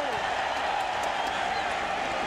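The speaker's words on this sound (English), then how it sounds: "Crowd certainly liked it." Steady, dense roar of a football stadium crowd at a Real Madrid versus Juventus match, loud and continuous with a distant cheering texture.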